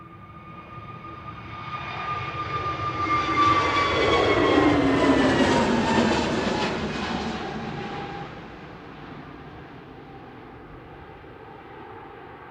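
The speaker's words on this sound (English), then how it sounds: "Landing in parallel is Ryanair from Poznan with flight 7547." Ryanair Boeing 737 MAX 8200 jet landing at Manchester Airport, its engine roar swelling steadily from a distance to a loud peak with a whining tone, then fading to a lower rumble.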